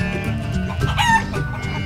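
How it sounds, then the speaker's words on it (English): A white rooster on a farm crows with a strong, drawn-out call, loud and close, over a busy background of other fowl clucking and calling. "A white rooster,"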